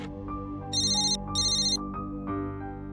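A phone ringtone plays a repeating electronic melody, loud and close, with bright pulsing beeps over a steady tonal backing.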